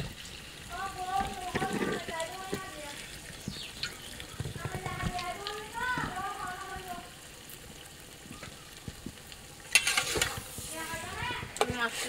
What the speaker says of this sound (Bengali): মশলার সাথে মাংসগুলোকে ভালোভাবে কষিয়ে নিতে হবে। একটু নেড়ে চেড়ে দিয়ে নিচ্ছি কষিয়ে নেওয়ার জন্য।